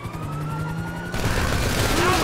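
Gunfire rings out during a team bank robbery getaway in the video game GTA 5, sounding as a dense, loud burst of shots over siren-like tones and vehicle noise, growing busier halfway through.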